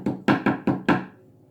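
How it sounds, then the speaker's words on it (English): Five sharp knocks on a wooden front door, loud and close, in a quick, slightly uneven rhythm, followed by a brief fading ring and quiet. "One day, there was a loud knock on the front door."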